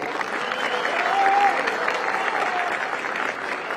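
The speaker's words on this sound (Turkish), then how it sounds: "Yani şu hastanelere falan şöyle çok güçlü bir alkış olması lazım" A crowd at an official gathering in Hatay applauds steadily, a dense patter of clapping with a faint voice or tone rising briefly partway through.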